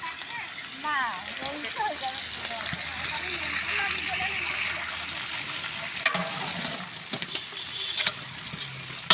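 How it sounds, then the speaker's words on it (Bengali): Chicken pieces frying in hot oil give a steady sizzle and crackle, with occasional spoon or pan knocks, while voices talk intermittently over the cooking. "এই যে মুরগি আপনার ভাজি তেলের পরে রয়েছে"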